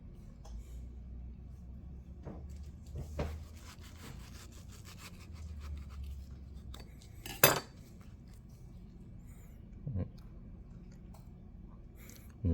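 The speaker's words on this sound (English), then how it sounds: "So go ahead and cut this." A knife slicing through a ripe Ambrosia mango gives soft, scattered scrapes and light clicks over a low steady hum, with one sharp, bright knock midway and a few quieter taps near the end.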